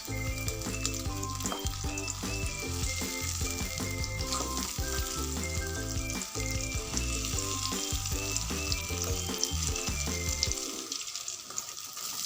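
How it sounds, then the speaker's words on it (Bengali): Cauliflower pakoras fry in hot oil with a loud, continuous sizzle that holds evenly for about eleven seconds before dropping away near the end. "এই কটা ভেজে আমি আপনাদের দেখাচ্ছি"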